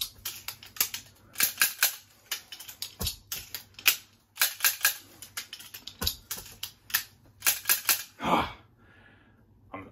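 Revolver speed reload practice, made up of rapid bursts of metallic clicks and rattles from cartridges and the cylinder, repeated in several quick sequences with short pauses, close and crisp, with no talking.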